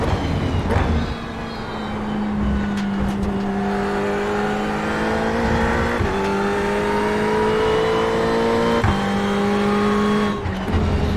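A race car in iRacing laps Laguna Seca, its engine droning steadily close up and climbing in pitch through the gears, with quick drops at each shift and no talk.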